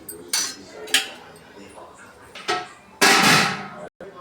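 Clay griddle pan set down on a stove for jowar roti, a few hard clunks and scraping knocks up close, irregular and separated by short pauses.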